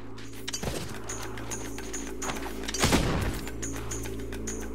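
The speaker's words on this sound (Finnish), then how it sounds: "No kuka siellä nyt vielä ammuskelee?" Gunfire in the video game Fable II: a couple of sharp, booming shot bursts ring out over a steady game ambience, with no talking.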